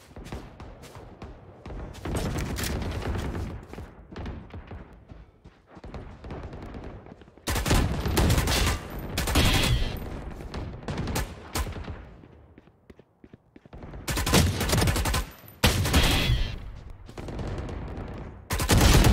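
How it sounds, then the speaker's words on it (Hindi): Bursts of rapid Phantom rifle gunfire with a BlastX skin in Valorant, loud and close, firing in sustained volleys separated by short pauses, with no talking. "इस बंदूक का साउंड मेरे को पसंद आ गया"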